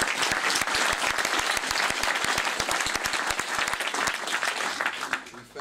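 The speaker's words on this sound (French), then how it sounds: "Let's give him a big round of applause." A conference audience gives the host a big round of applause, a dense burst of clapping with some sharp individual claps standing out, loud and continuous until it tails off at the end.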